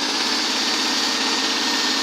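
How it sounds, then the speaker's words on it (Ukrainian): Homemade generator's engine running at idle, a steady high-pitched whirring hum like a small motor, constant and close with no variation or talk. "Двигун працює на холостому ходу."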